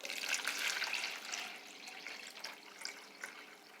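Fox Farm Grow Big nutrient solution poured into a pot for a Kratky hydroponics setup, a soft splashing, gurgling stream that is strongest at first and tapers to quieter trickles, close and alone without talk.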